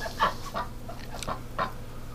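Farm hens cluck in a coop, several short clucks spaced across a couple of seconds, fairly close over low ambient noise.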